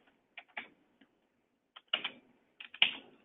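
Keys clacking on a computer keyboard in short bursts of a few strokes each, separated by pauses, fairly close and alone with no talk.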